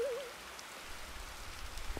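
Steady rain falling in Minecraft, a soft continuous patter of drops with a low rumbling wash underneath, quiet and even throughout.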